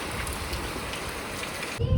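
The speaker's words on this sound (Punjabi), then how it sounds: "ਅੱਜ ਵੀ ਮੀਂਹ ਆ ਗਿਆ" Steady rain falling, a dense hiss with no pauses; near the end a low rumble briefly swells.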